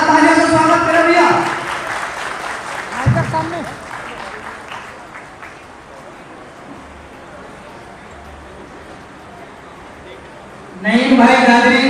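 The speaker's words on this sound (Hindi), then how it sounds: "जोरदार तालियों से स्वागत करें भैया।" Crowd applause at a foundation conference in Gorakhpur, a burst at the start fading into a room murmur, with voices speaking over it near the beginning and end.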